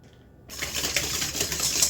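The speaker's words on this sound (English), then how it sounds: "We mix that with a whisk and let it sit for 10 minutes" A whisk rattles rapidly against a bowl as yeast, sugar and warm water are mixed for pizza dough, starting abruptly after a near-silent moment and continuing as a steady, busy clatter.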